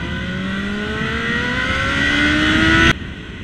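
A motorcycle engine revs steadily upward in pitch for about three seconds, loud and close, then cuts off abruptly to a quieter idle-like hum.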